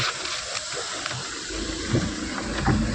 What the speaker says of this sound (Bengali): এ দেখেন ঝর্নার জল